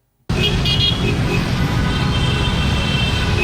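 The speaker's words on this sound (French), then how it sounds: "Les usagers de la route se pressent sur les antivoies de descente dans un tintamarre de klaxons" Busy road traffic in a jam, with a constant loud roar of vehicles and brief horn toots near the start, heard close by after a sudden onset.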